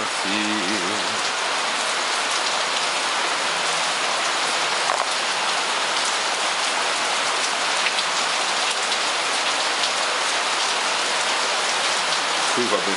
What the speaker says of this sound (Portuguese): Chuva abençoada, né?